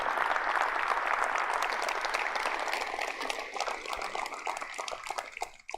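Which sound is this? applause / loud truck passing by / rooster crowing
applause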